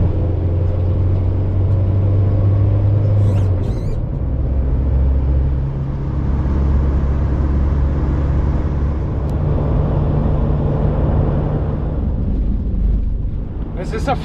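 Motorhome driving along a road, a steady loud rumble of engine and road noise that holds constant throughout, with a voice speaking over part of it.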